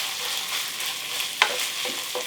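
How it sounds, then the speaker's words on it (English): Ground beef browns in a frying pan with a soft, steady sizzle and a few brief scraping stirs, alone with no talk. "ground beef's browning up nicely"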